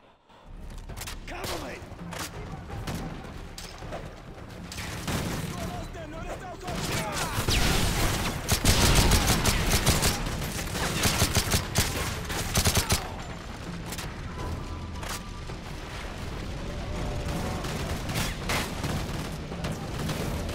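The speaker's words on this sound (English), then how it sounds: "It's hard to fucking shoot things when you're being shot at." Gunfire and explosions in a Call of Duty Modern Warfare 3 campaign battle, dense and continuous volleys with heavy booms swelling in the middle, while a player talks over the action.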